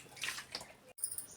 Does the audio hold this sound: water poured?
yes